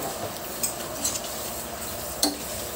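Ingredients for adobo being stirred in a cooking pot, with soft scraping and a few light clinks of a utensil against the pot over a low steady background hiss.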